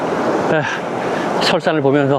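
Flowing water of a mountain stream beside a trekking path toward a lake in South America makes a steady rushing wash, with a person talking over it throughout.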